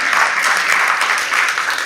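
Dense, steady applause fills a workplace mental health talk, a crowd clapping for a volunteer named Camille, sustained and fairly close for a couple of seconds.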